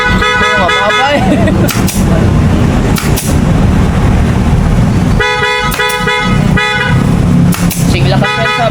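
Loud car horn blasts, a couple of short toots followed by longer honks, sounding close over engine noise and voices in the background.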